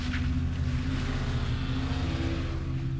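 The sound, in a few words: car speeding off, sound effect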